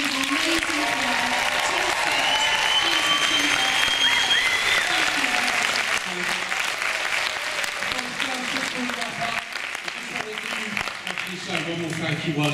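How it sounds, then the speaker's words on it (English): Audience applause at a vegan activists panel at London Vegfest 2017, a large crowd clapping loudly and steadily for several seconds before it thins, with a voice speaking through the later part. "will you give a massive round of applause to all of these amazing people"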